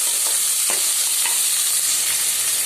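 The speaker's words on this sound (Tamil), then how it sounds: "பெரிய வெங்காயம் போட்டு நல்லா வதக்கிடலாம்." Onions sauté in hot oil with popped mustard seeds and curry leaves for a Tamil kara kulambu, giving a loud, continuous sizzle broken by a few sharp spatula scrapes close by, with no voices.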